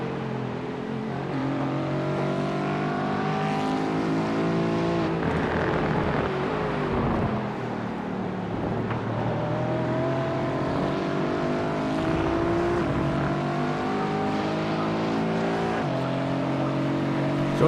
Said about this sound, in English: Lucas Gabler in the growling Aston Martin Vantage.